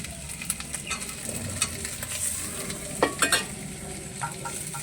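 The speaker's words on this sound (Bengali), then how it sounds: "পেঁয়াজের সঙ্গে মশলাগুলোকে ভেজে নিয়েছি, এখন দিয়ে দিব টমেটো কুচি।" Chopped tomato goes into onions and spices frying in a pan, giving a soft steady sizzle broken by a few close scraping stirs of the spoon, with no voices.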